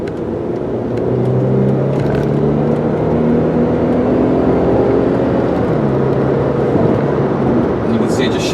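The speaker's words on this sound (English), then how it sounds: "you can see it just shifted right up through the gears, nice and smooth" A 2001 VW Passat 4motion accelerates with a steady, rising engine drone heard from inside the car, its pitch stepping as it shifts up through the gears, with a voice talking over it.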